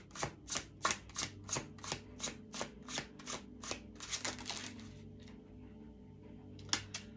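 Tarot cards are shuffled close by in a rapid, regular series of crisp riffling bursts, then a pause before a couple of final soft taps.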